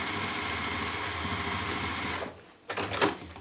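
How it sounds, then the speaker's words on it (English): Sewing machine running steadily as it stitches a seam on a fabric market trug bag, a continuous mechanical whir for over two seconds, then a brief pause and a short restart burst. "I would always do a little backwards and forward stitch first, just to hold everything in place"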